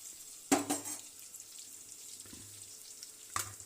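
Sliced onions sizzle in hot tempering oil in a home kitchen pan for a South Indian drumstick curry, a steady soft frying hiss with a couple of brief louder clatters from stirring, no voices.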